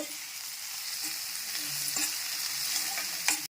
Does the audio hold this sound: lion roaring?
no